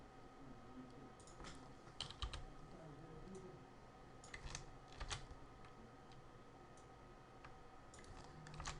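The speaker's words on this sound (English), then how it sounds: "what we're typing in right now" Fingers type on a computer keyboard during a PopcornFX software tutorial, producing quiet, close bursts of keystroke clicks separated by short pauses.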